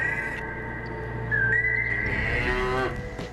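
Grazing cattle moo in long, drawn-out calls, one low bellow rising and bending before another follows, with a thin whistle-like tone mixed in.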